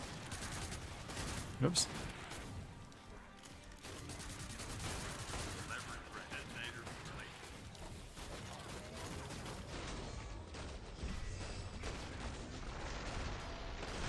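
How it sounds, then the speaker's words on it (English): Gunfire in the zombie shooter Killing Floor 2, a dense sustained clatter of shots and impacts under a busy game soundscape, with a voice speaking briefly. "Looks like everything's dead over there, so guess I'll shoot that guy."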